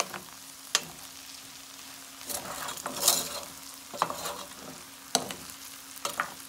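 Fried okra with smoked fish cooking in a pan, a soft background sizzle broken by repeated scraping and clinking stirs of a spoon against the pan, close by and irregular.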